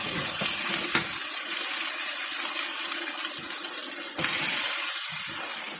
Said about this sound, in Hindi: अब इसको थोड़ी देर भून लेंगे हम।